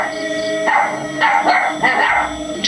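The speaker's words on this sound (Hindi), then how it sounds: "वो जोर जोर से भौंकने लगता है।" A dog barks loudly and close by, several sharp barks in a row with short gaps between them.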